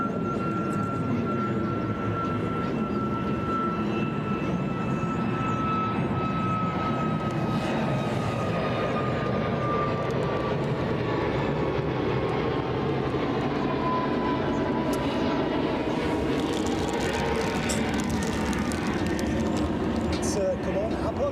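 A jet airplane at Cologne Bonn Airport roars loudly and continuously, its engine whine slowly sliding in pitch as it passes, with faint voices underneath.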